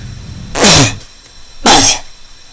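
Two loud, explosive human sneezes about a second apart, each a sharp burst of breathy noise, close to the microphone with quiet between them.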